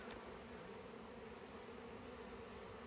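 A swarm of honeybees buzzes in a dense, steady, faint drone for a few seconds, with no voices over it.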